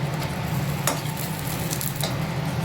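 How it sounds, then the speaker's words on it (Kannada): Cumin seeds frying in a pan give an even, close crackling sizzle, with a couple of brief sharper spatters breaking through and no voices. "ಈಗ ಸ್ವಲ್ಪ ಇದು ಜೀರಿಗೆ ಹಾಕ್ಕೊಬೇಕು ಫ್ರೈ ಮಾಡೋದಕ್ಕೆ"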